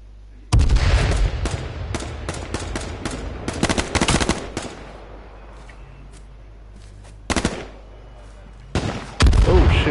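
Gunfire from the H1Z1 battle royale game on PS4 rings out in loud repeated cracks and short bursts, with a long stretch of shots followed by isolated blasts near the end.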